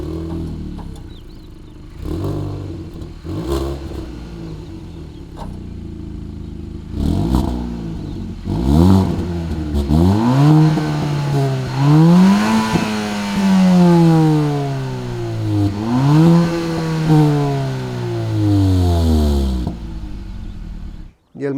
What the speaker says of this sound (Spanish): dos salidas de escape de verdad, que además tienen un sonido muy chulo